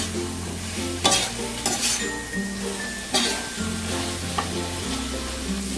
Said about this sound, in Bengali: পটলগুলো দিয়ে একটু ভালো করে নাড়াচাড়া করবো যাতে পটলের মধ্যে ভালো করে মশলা টশলাগুলো ঢোকে